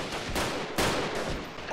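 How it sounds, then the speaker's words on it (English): Gunfire in the PC game Guerrilla Freeman, a couple of loud, sharp shots with short echoing tails, close and without talk. "I just have to make a shot here."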